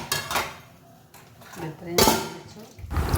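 Steel dishes and utensils clatter and clink as they are washed, several bright metallic knocks and scrapes scattered through, close up, with a voice speaking over parts of it.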